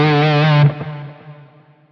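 An electric guitar lead tone from a Quad Cortex modeler plays with distortion and delay, a sustained note cutting off abruptly and trailing into fading delay repeats.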